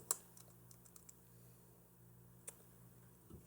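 Quiet, irregular key clicks from typing on a computer keyboard, scattered taps over a low steady room hum, with no voices.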